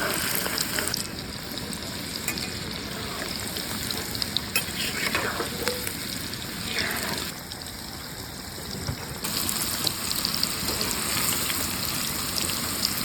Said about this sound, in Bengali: এবার আস্তে আস্তে নাড়তে থাকবো আর হালকা আঁচে ভাজতে থাকবো